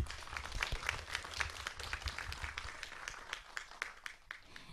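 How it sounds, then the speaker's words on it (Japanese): An audience claps for a lecturer after a science talk on virtual reality and telexistence, a faint, fairly distant patter of many hands that thins out toward the end. "まず先生に拍手をお願いいたします"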